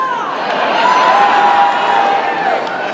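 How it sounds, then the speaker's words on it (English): A large crowd at a live event roars and cheers in a dense, sustained wash of voices and whoops, loud and fairly close, holding steady for a few seconds. "Man, that is a big crowd."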